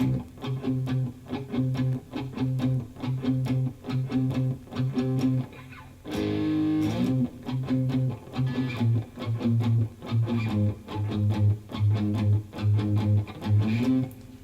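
A distorted electric guitar plays a steady, repeating riff of chunky chords from a song, loud and close, with a brief burst of brighter noise in the middle and no talking.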